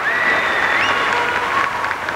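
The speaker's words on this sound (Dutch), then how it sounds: "ontvang ze met een hartelijk applaus" Warm audience applause greets a singer about to perform, a steady, even patter of many hands clapping throughout with no break.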